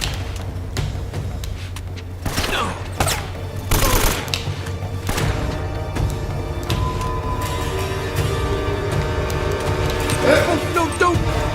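Gunfire from the video game Uncharted: Drake's Fortune, with bursts of shots and heavy thuds scattered over a steady game soundscape, mixed with a player's talk and laughter.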